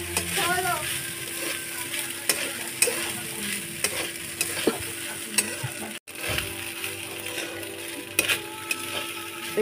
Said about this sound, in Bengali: আমি এবারে বেশ করে মিশিয়ে নেবো।